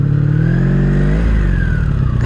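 A 40-year-old 1983 Honda Sabre VF750S motorcycle accelerates up close, its engine note climbing steadily in pitch and then easing briefly as the rider shifts, loud and alone.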